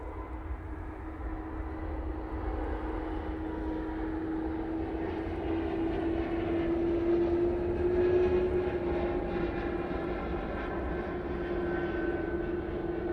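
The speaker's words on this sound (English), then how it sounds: "next departure is that Air France A380 going off to Paris Charles de Gaulle Airport." Air France A380 departing Manchester Airport, a steady, loud jet engine roar with a rising tonal whine that swells toward the middle and holds as the aircraft passes, heard from a distance without voices.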